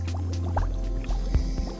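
In the video game Kao the Kangaroo, an underwater level fills with liquid sounds: soft bubbling drips and gurgles over a low watery rumble, close and moderately loud.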